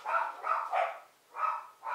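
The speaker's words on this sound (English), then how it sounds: "sorry, my dogs are going nuts." Several dogs bark in quick bursts, five yaps in two seconds with a short pause, fairly close and sharp, no one talking.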